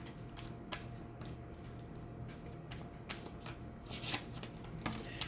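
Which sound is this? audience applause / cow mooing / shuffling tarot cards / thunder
shuffling tarot cards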